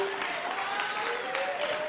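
Audience applause at an ANC political gathering during closing remarks, a brief, steady wash of clapping heard at a moderate distance, with a faint voice beneath it.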